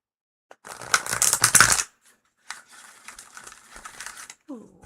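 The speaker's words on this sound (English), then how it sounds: "what a lovely shuffle" Tarot cards being shuffled in a single brisk burst of riffling and crinkling lasting about a second, followed by softer card handling and light rustling, close by.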